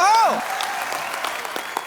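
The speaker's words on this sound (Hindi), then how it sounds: "आपकी जोरदार तालियों के बीच तशरीफ ला रहे हैं" Studio audience applause on a comedy talk show as a ghazal singer is welcomed onstage, opening with a swooping musical or electronic tone, then scattered clapping continuing underneath.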